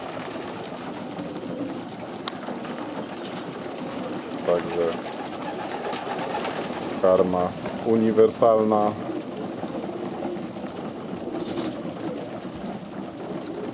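Pigeons in a loft coo in low, throaty bursts against a steady background hum, while someone talks intermittently nearby.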